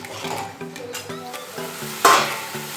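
Spice masala with yogurt for doi potol sizzles in a pan as a spatula scrapes and stirs in rhythmic strokes, with one sharper metallic clank partway through.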